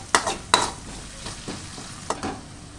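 Potatoes with half a spoon of turmeric cooking in a pan, stirred a few times: sharp scraping strokes over a soft, continuous sizzle, close up.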